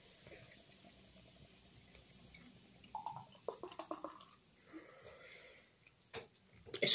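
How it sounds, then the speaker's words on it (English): Craft beer poured over breakfast cereal in a bowl, a faint liquid splashing and fizzing trickle with a few small pattering bursts, quiet and close. "I did just pour a perfectly good craft beer over me breakfast cereals"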